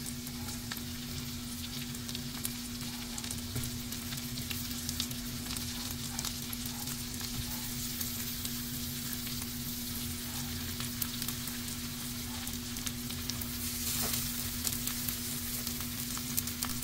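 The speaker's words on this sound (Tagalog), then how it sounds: "So, ngayon, idagdag ko na yung ating eggplant." Eggplant fries in a hot pan with a steady, loud, dense sizzle that keeps going throughout, close up with no talking.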